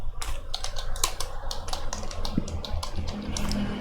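Rapid, uneven keystrokes clatter on a computer keyboard, close and fairly steady for several seconds with no talking.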